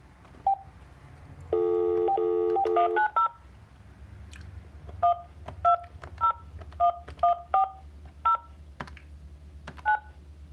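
Telephone dialing tones for a call: a few isolated beeps, then a sustained burst of rapid dual-tone keypad tones, followed by about a dozen short, clear beeps spaced evenly against a quiet background hum.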